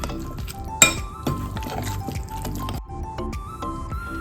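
Yogurt masala marinade for oven-grilled chicken being stirred in a bowl, with wet squishing, drips and repeated clinks of a spoon against the dish, close and fairly quiet with no talking.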